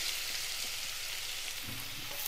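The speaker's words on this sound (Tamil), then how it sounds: "இந்த வெங்காயம் நல்லா வதங்கட்டும்." Shallots sauté in hot oil for a Kerala fish pollichathu, giving a soft, even sizzle and crackle close by that runs unbroken. No one speaks.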